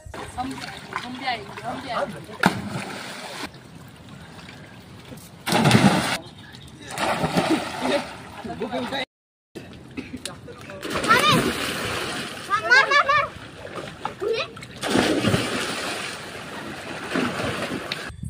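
Splashing water from someone swimming in a flooded paddy field in rural Konkan, Maharashtra, coming in repeated bursts, with people talking throughout.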